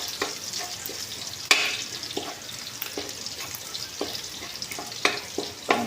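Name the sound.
garlic sautéing in a pan until golden brown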